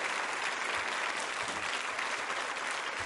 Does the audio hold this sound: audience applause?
yes